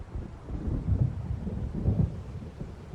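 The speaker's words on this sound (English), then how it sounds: "It seems there's a storm coming." Thunder of an approaching storm in Alan Wake Remastered: deep rolling rumbles with two heavier swells a second apart, steady low grumble throughout, fairly loud and without voices.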